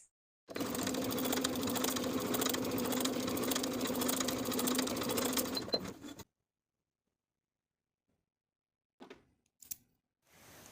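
A domestic sewing machine stitches a bodice dart in one fast, steady run of about five seconds, close and clear, then stops abruptly, followed by quiet with a few small handling clicks.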